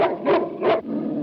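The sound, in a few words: dog growling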